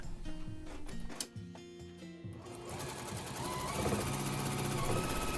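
A sewing machine stitches black thread across 6-inch recycled fabric squares for a simple bag, its motor humming with a fast mechanical ticking that stops briefly, then resumes in a steady continuous run.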